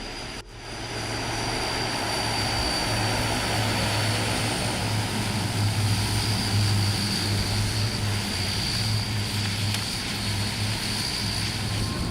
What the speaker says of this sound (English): IL-18 Coot aborted takeoff from the 8202 feet-long airstrip at Cabinda, West Africa.